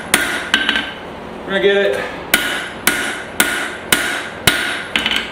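Hammer blows forging an iron and steel billet thinner for San Mai, six or seven sharp ringing strikes at a steady rhythm, close and loud, with a brief spoken line in between.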